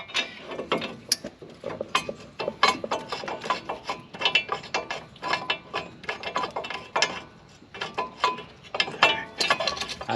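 Bolts are threaded by hand into a pickup truck's brake caliper bracket, giving close, uneven metallic clicks and ratcheting bursts that come in irregular clusters.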